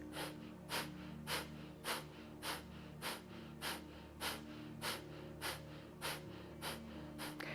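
During a Kundalini yoga class, deep breathing repeats at a steady rhythm: a sharp nasal inhale or exhale about every half second, close and clear over a faint background hum.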